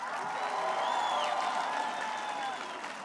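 A large crowd at an Armenian political rally applauds steadily, a dense roar of clapping mixed with cheering and a few high whistles, sustained loudly for a few seconds.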